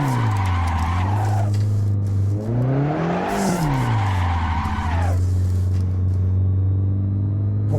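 Video game race car drifting, with a loud sustained tire squeal over a droning engine rumble that rises and falls in pitch as the car slides through the corner.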